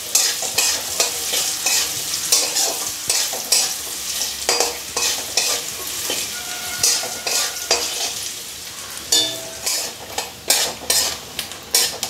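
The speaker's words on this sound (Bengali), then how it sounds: "আর একটুখানি হলুদ দিয়ে নারকেলটা আমি ভেজে নেব।" Grated coconut with a little turmeric fries in a pan, with a continuous sizzle and repeated scraping strokes of a spatula stirring it up close.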